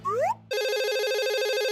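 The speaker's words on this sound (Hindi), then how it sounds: "मैं डॉक्टर को फ़ोन करता हूँ।" A synthetic telephone ring in a children's cartoon story: a short rising chirp tone, a brief gap, then a loud, steady trilling electronic ringtone that continues on its own.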